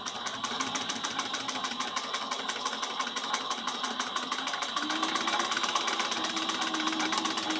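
Sewing machine stitching the base of a small bowler bag at a 1/8 inch seam allowance, a steady close whirring hum that runs continuously and grows slightly louder and lower in pitch near the end.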